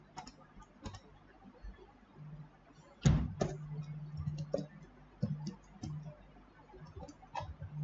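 Typing on a computer keyboard while entering data into MATLAB, heard as scattered soft key clicks with a sharper burst of taps near the middle, close and quiet, with no talk.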